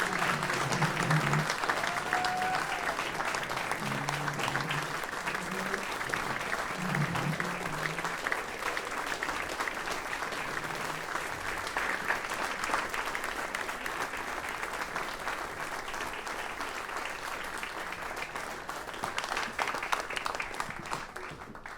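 A crowd applauds a jazz musician at a live talk event, sustained dense clapping that stays even and full for over twenty seconds, gradually easing near the end.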